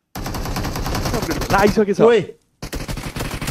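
Rapid bursts of gunfire from a shooting video game with pump shotguns, loud and dense. A voice talks excitedly over the shots before a brief silence, then the firing resumes.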